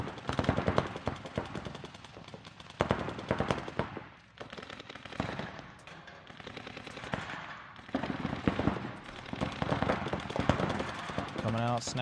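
Rapid bursts of gunfire ring out during a competitive one-on-one video game match, some in quick automatic strings, running under steady commentary from casters.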